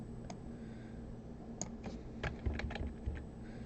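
Rapid, close typing on a computer keyboard during a coding lesson, with a steady run of light key clicks and a few sharper taps, no talking.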